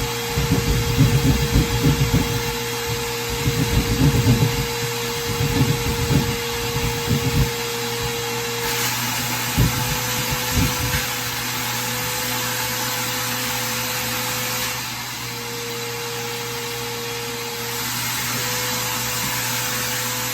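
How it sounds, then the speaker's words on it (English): A shop vacuum drones steadily and loudly near the microphone, held up while a hole is cut in a ceiling for a recessed light, with bursts of rough cutting noise over it early on before the motor runs on alone. "I like to hold the vacuum up while I cut."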